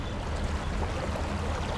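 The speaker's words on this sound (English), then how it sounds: "Less of the park, more of the stream." A stream sound effect blended into a park ambience in Krotos Studio Pro: a steady, moderately loud wash of rushing, burbling water with no breaks.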